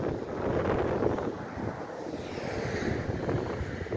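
Wind blows hard across the microphone at the seaside harbour in Cartagena. Low, rumbling gusts swell and ease over a faint background of sea, and nobody speaks.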